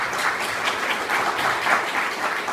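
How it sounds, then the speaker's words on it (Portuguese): An audience at a law lecture claps for a guest speaker, giving a short burst of continuous, fairly loud applause. "Peço uma salva de palmas para o nosso convidado."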